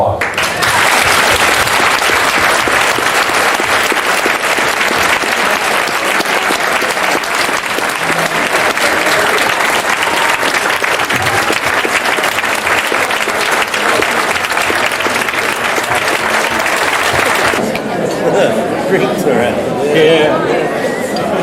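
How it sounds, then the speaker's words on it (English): A room full of guests claps in steady, dense applause for a table of honorees at an anniversary celebration, loud and sustained for about seventeen seconds before cutting to quieter murmuring and chatter. "I think it'd be well worth it that we all give this table, those two ladies, and Rebecca a round of applause."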